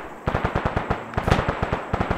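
Rapid automatic gunfire from the video game Arma 3 cracks out in quick evenly spaced bursts with a brief pause in the middle, loud and close.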